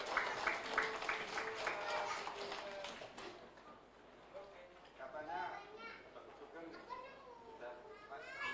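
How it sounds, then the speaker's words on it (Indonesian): At a store launch event, an audience claps in scattered, moderately faint applause that fills the stretch. Voices talk over it and cheering rises and falls now and then. "Tepuk tangan Bapak Ibu sekalian."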